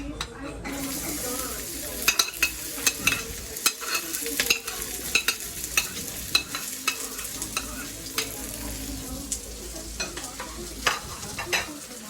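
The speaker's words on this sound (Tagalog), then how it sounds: "Lagay ko na yung sibuyas." Chopped onions for tuna sisig sizzle steadily in a hot pan, with frequent sharp clatters of a utensil stirring and scraping throughout, close and fairly loud, and no talking.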